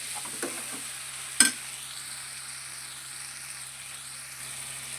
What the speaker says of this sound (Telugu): బాగా మిక్స్ చేసా.